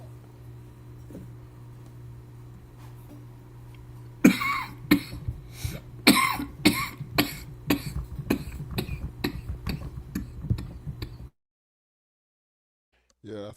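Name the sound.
person coughing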